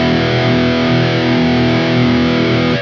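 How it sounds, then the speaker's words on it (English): Electric guitar run through the distortion block of the Neural DSP Gojira X plugin, a loud, saturated sustained chord droning steadily with heavy gain and no speech. "the OD and the distortion here. Of course, the distortion has more gain."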